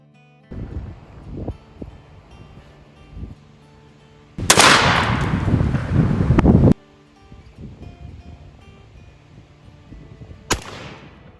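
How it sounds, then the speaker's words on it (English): Shotguns are fired outdoors while patterning shots for turkey hunting, two loud close blasts several seconds apart, the first with a long rolling echo, amid wind noise and light rustling. "here's Sean showing you guys how to pattern your shots."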